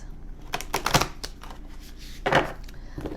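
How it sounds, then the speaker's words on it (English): Deck of cards being shuffled by hand in a tarot reading, with crisp riffling bursts and taps, two louder flurries standing out, close and without talk. "shuffle the cards"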